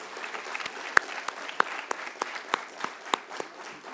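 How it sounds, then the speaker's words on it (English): Applause for the core team at the FKCCI Manthan-2022 mentors session: scattered clapping from a modest audience, with distinct sharp individual claps standing out from a lighter, steady patter. "A round of applause to the entire core team"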